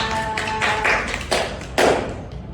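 Students in a classroom clap briefly for a classmate, scattered sharp claps and thumps arriving in a few loose bursts nearby, with no talking.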